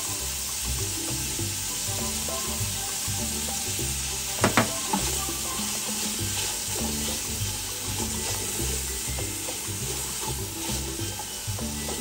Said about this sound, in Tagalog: Lagay ko ang bawang.